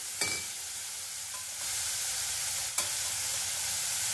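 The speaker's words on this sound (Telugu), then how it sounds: "పుదీనా, కొత్తిమీర ఫ్లేవర్ బాగుంటుంది ఇట్లా ఆయిల్లో మగ్గుతాయి" Mint and coriander frying in oil with onions give a steady, dense sizzle that swells partway through, with a couple of sharp utensil knocks against the pan and no voices.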